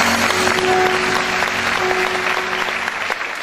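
Loud, sustained applause from a concert hall audience honoring the governor and his wife, dense and even, with a faint steady tone beneath.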